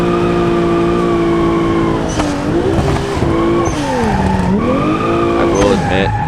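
Car drifting in the BeamNG driving game: a loud, steady engine drone rises and falls in pitch as tires squeal through the slides, continuous and close throughout.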